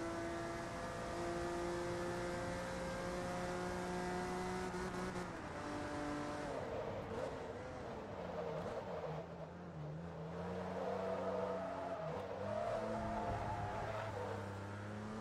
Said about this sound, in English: Such a beautiful engine, I'll be honest. It does sound really nice